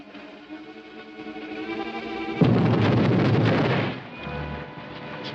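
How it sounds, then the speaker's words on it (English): A sudden loud explosion beneath a bank erupts over a humming background, roaring for over a second before fading into a low rumble. "Explosion. Beneath bank."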